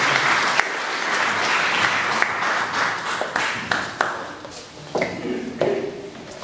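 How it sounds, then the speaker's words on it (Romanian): Audience applause at an autumn cultural evening in a cultural centre, full and close at first, then thinning into scattered individual claps toward the end. "Aplauze pentru invitatul nostru."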